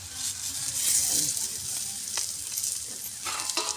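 Steady sizzling of spinach dhapate flatbread frying in oil on a hot griddle, a continuous crackling hiss with small pops, no talking.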